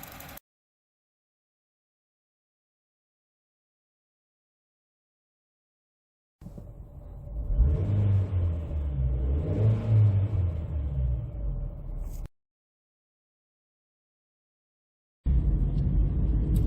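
A 2010 Honda Jazz 1.2 i-VTEC hatchback's engine rumbles and revs as it drives, steady and close, between stretches of silence.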